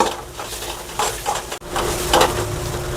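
Spoon stirring onion, tomato, asafoetida and turmeric in a pan for idli upma, a steady scraping and soft sizzle with a few louder clinks of utensil against the pan, close and continuous, no voices.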